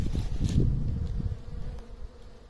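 Honeybee colonies humming at the hives, a dense low buzz close by that is strongest at first and slowly fades, with no voices.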